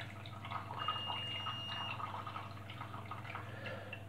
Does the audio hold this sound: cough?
no